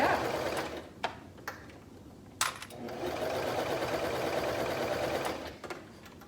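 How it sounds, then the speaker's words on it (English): A sewing machine with a clear presser foot stitches a half-inch fabric hem, running in a steady mechanical whir with a few short pauses and clicks, close and clear. "And then go ahead and sew it up."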